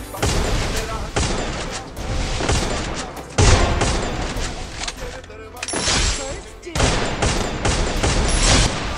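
Rapid bursts of gunfire from the mobile battle game Garena Free Fire, dense fusillades and machine-gun rattles in repeated volleys with a few brief gaps, loud and close, with a voice talking over the shooting.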